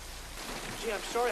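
Dense, hissing rain pours steadily all around, with a voice speaking faintly underneath the downpour near the end.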